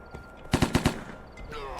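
A quick burst of four sharp gunshots in rapid succession in the video game Chronicles of Vipers, loud and close, followed by quieter background game noise.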